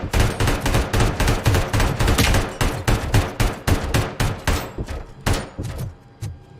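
Rapid bursts of video game gunfire, loud and close, firing in a fast repeating rhythm for several seconds before tapering off near the end.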